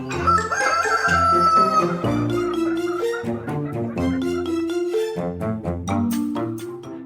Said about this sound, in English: Oh, Mother and Father Chicken.